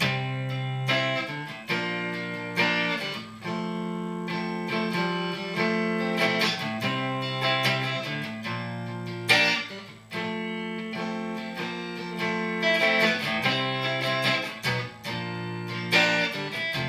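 Guitar playing a verse: a steady, melodic passage of strummed and picked chords with a bright, sustained tone and no voices.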